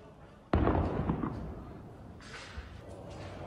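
An airstrike explosion on the Iraqi-Syrian border booms once as a sharp, distant blast, then rumbles and fades over a few seconds, faint overall.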